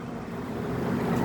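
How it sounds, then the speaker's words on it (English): Gusting wind roars steadily just outside an opened door, a broad continuous rush that swells slightly louder over its short span, with no talk. "No, it's the gusting. The gusting of the wind."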